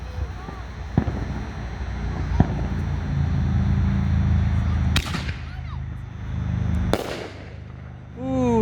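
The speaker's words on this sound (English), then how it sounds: "you got Donut Shell by Winda," Donut Shell canister shells by Winda go off outdoors in a string of loud sharp bangs, several sudden booms a second or two apart trailed by crackling and whistling fizz, while people talk nearby.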